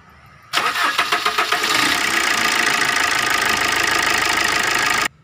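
Maruti Swift engine, just given corrected timing after a late-starting problem, cranks briefly with rapid pulses then fires and settles into a steady, even idle, close by, before cutting off abruptly.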